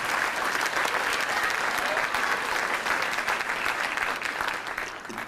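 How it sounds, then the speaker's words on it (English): Sustained, dense applause from a large audience at the IMA 36th Annual Gala at the Halls of St George, steady and loud throughout before easing slightly at the end. "Please give them a big round of applause."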